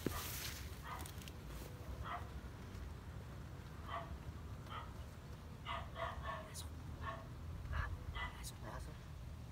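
A dog near a house barks repeatedly in short, sharp bursts at moderate distance over a constant low rumble, with people talking faintly in the background.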